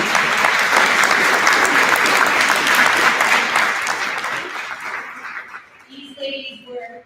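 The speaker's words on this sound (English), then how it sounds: "Please give these ladies a round of applause." An audience at the Town of Nottingham deliberative session applauds election officials with dense, loud clapping that fades out over several seconds, followed by a brief voice.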